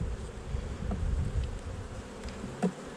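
Agitated bees swarm around an open hive, a dense continuous buzz close by with a few individual insects droning louder as they pass near.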